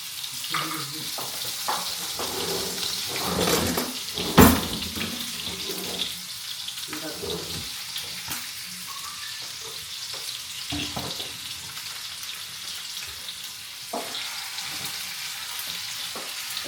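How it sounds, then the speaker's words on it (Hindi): Marinated chicken fries with garlic and ginger in a pan, giving a steady close sizzle with occasional clatters and stirring knocks, while someone talks over the cooking. "लहसुन अदरक के साथ मैं फ्राई करूंगी चिकन को"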